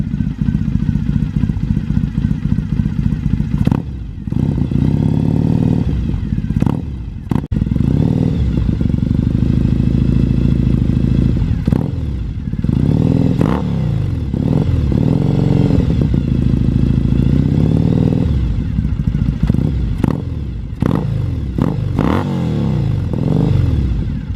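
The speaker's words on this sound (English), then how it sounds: "we're just gonna rev it up gently" A cold Triumph Thruxton cafe racer motorcycle idles loudly up close and is revved gently several times, the engine note rising and falling in short blips with a steady throbbing idle between them.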